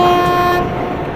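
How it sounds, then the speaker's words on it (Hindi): A WAG 7 locomotive horn in Train Simulator on the Kerala valley route sounds one loud, steady tonal blast with strong harmonics, fading slightly toward the end, with no talk over it. "भाई पैसेंजर्स के लिए हॉर्न बजा देते हैं ताकि वो थोड़ा सा प्लेटफॉर्म से दूर हट जाए"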